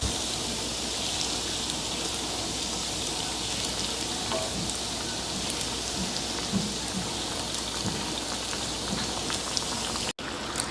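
Yeast donuts frying four at a time in a pot of hot oil, giving a steady dense sizzle and bubbling crackle that holds evenly throughout, with a brief break near the end.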